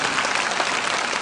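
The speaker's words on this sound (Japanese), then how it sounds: "最後大きな拍手に包まれましたね。" A large audience in Aichi, Japan claps loudly and continuously after a figure skating performance, a dense, even wash of applause filling the arena.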